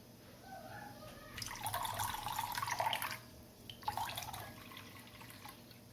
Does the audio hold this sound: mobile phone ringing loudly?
no